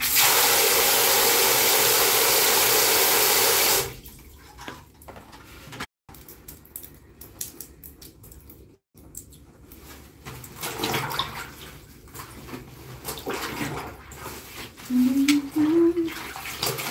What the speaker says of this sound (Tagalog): Dagdagan natin ang softener. Ayan. Dagdag tayo ng water.